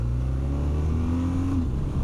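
A 2026 BMW R 12 G/S boxer twin motorcycle engine running steadily nearby, a low continuous drone with a tone that rises briefly as the engine revs, no talk.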